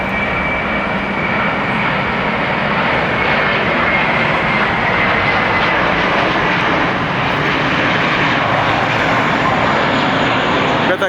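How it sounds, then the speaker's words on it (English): Airbus A321 airliner at LAX, a steady loud engine roar filling the whole stretch without letting up, heard from nearby. "Got this A321 right here."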